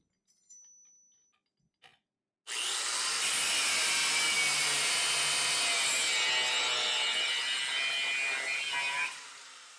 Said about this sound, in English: Time to get the grinder?